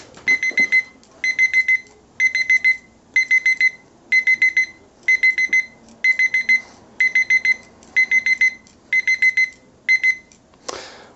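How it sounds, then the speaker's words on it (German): A dumbbell alarm clock rings in regular bursts of rapid beeps, repeating about once a second, loud and close, ending with a click. "wenn der Wecker klingelt"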